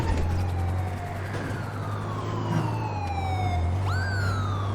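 A police siren in GTA 5 wails with steady falling sweeps and then rises sharply again, loud and continuous over a low engine drone, with no talking.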